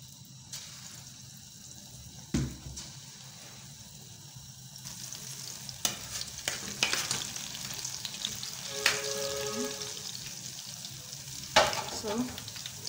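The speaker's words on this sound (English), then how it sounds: "frying my mosa balls." Banana mosa balls deep frying in oil over medium heat give off a steady crackling sizzle, punctuated by a few sharp clinks and stirring scrapes, close up and with no talking.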